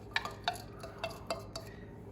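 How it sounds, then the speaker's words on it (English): Green onions being stirred into a pot with a utensil, producing a series of light metallic clinks and scrapes, quiet and close, in a loose rhythm about twice per second. "So we'll just stir that in as well."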